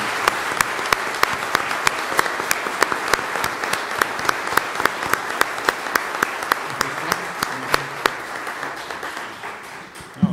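An audience at an academic panel on democracy in Latin America applauds Detlef Nolte with a steady ten-second round of clapping, many hands in dense patter with crisp individual claps standing out, tapering off at the end.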